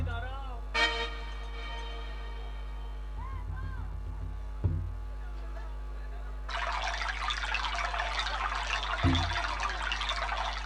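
Drinking water, noted as slightly salty water from a field tap, is poured. It begins as a steady, rushing hiss about two-thirds of the way in and carries on to the end, after a few soft clunks and tonal sounds.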